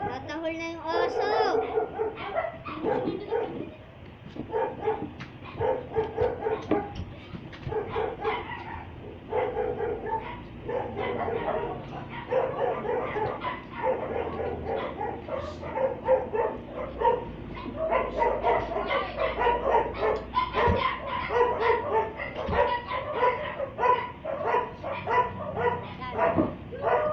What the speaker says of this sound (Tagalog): Natahol na yung aso!